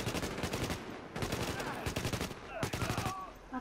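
Bursts of sniper and automatic gunfire in the shooter game Tom Clancy's The Division, firing in loud rapid volleys across a tunnel camp firefight, three dense clusters with brief gaps between them.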